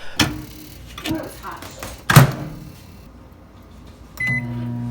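A microwave oven runs through a short sequence: a few soft thumps and taps like a door shutting and buttons being pressed, then a steady low hum starts near the end. The sounds are close and clear, with no talking.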